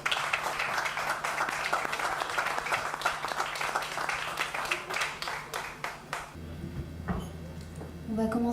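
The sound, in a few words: audience applauding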